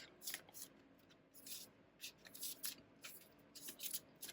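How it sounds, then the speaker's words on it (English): Tarot cards being shuffled and cut by hand, a soft papery riffle in repeated short bursts, close and faint with no talking. "I'll do one more cut and then I'll try to get a card for you."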